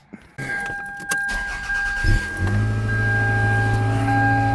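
A Toyota Solara engine cranks and turns over, then settles into a steady idle, with a brief jingle of keys at the start.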